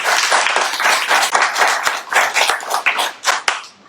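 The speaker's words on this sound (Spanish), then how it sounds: "Démosle un fuerte aplauso al Señor." A church congregation claps together, a loud, close burst of many hands with some sharp individual claps standing out, the clapping swelling and ebbing in uneven waves for a few seconds.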